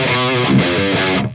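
An electric guitar played through a distorted amp setting, a dense, loud saturated chord ringing continuously for over a second before cutting off, with no voice over it.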